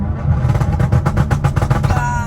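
A straight-piped Kia Stinger's exhaust burbles through a downshift in a short, loud run of rapid pulsing pops and crackles.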